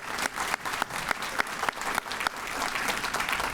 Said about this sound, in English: let's give these guys and gals a round of applause